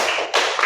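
A group of hands claps in counted time, producing two close, loud, slapping bursts about a third of a second apart, with no voices on top.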